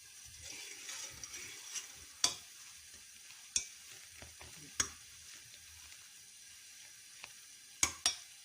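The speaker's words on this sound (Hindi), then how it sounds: "ऐसे इसको चम्मच से हिलाते रहें, ताकि ये नीचे पैंदे के साथ लगे नहीं" Homemade desi ghee cooks gently in a pan, a soft bubbling simmer broken by sharp spoon taps and scrapes against the pan every second or two.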